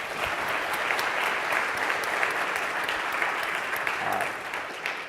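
Steady audience applause for six semifinalists at a military innovation pitch competition, a dense continuous patter of many hands at moderate volume, fading slightly at the end.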